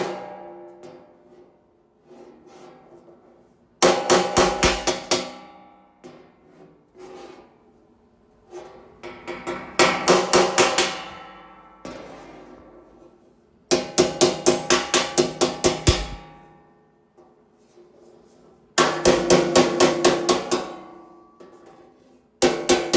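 A hammer taps the oversized edges of metal sheets to narrow the seam before gas welding. Four separate bursts of quick, loud, ringing metal strikes sound close by, with quiet gaps between them.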